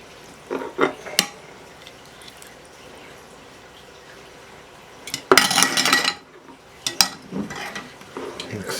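A serving spoon scrapes and scoops cheesy baked spaghetti out of a baking dish with brief clinks and a loud clattering burst in the middle, close and clear, with no talking.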